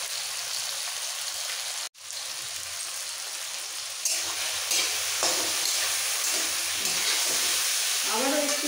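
Chutney of ripe jujube and tomato being stirred in a frying pan, a steady close sizzle and scraping that grows a little louder partway through, with no talk.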